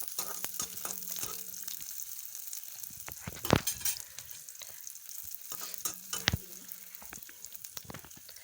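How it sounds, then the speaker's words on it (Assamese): Onions frying in a pan give a steady close sizzle, broken by a few sharp clanks and scrapes of stirring near the middle and toward the end; no one speaks. "পিঁয়াজখিনি অকণমান টাইম ভাজিম"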